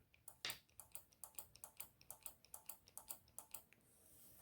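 Solenoid in an ABS modulator clicking rapidly and steadily, a close run of about twenty sharp, quiet ticks in quick even rhythm with no talking.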